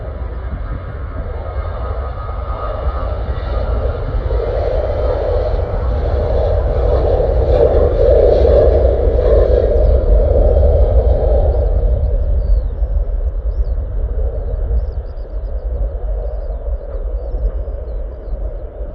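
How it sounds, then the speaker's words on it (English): A Ryanair passenger jet taking off at Stansted Airport produces a loud, steady engine roar with deep rumble, swelling and holding strong before easing slightly as it climbs away. "Let's catch this Ryanair one taking off as well."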